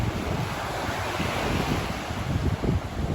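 Sea surf rolling onto a beach at high tide while a man swims, a steady broadband wash with swelling surges and gusty wind buffeting the microphone, heard alone with no talk.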